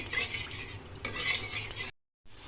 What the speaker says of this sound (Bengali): এবারে আমি এটাকে 2-1 মিনিটের জন্য খুব ভালোভাবে একটু কষিয়ে নেব।